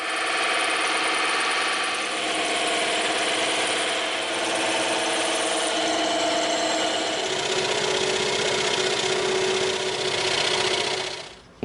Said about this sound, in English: now we're going to go over to the bandsaw and the scroll saw for these little round corners